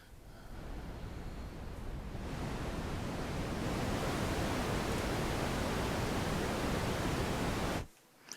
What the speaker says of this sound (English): this whole thing here is basically a noise oscillator